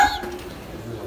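A bird gives a short, soft coo close by, followed by quiet background noise.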